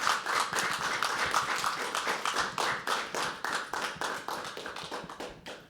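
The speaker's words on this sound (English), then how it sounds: "Can we have another round of applause for it?" An open mic poetry crowd claps for a poet, a brisk patter of many hands that stays fairly even throughout before thinning slightly at the close.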